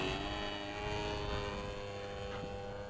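A Hanger 9 PA18 Super Cub RC model airplane flying over an open airfield, its propeller engine giving a steady buzzing drone with a bright whine, continuous and moderately loud.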